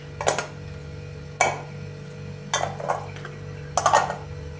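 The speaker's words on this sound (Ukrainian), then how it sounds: "Кришки обов'язково стерилізуємо і накладаємо на банки." Sterilized metal lids set onto glass jars of pickled cucumber salad, four distinct light clinks and clatters spaced a second or so apart, close and fairly quiet over a faint background hum.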